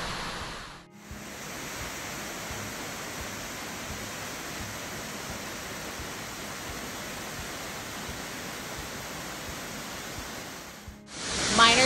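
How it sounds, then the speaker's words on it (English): Miner's Falls, a 50-foot waterfall pouring over a sandstone outcrop at Pictured Rocks, roars as a dense, steady wash of falling water, loud and unbroken, with a brief dip near the start and a louder burst at the end. "At 50 feet tall and flowing over a sandstone outcrop, this is the most powerful waterfall in Pictured Rocks."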